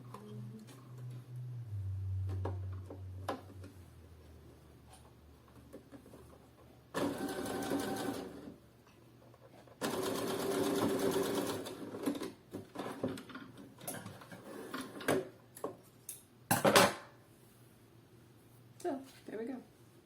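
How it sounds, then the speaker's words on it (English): Short bursts of a sewing machine stitching a bikini seam back down, several separate runs with pauses between, alongside light handling noises and a voice talking. "now I'm gonna sew this right back down."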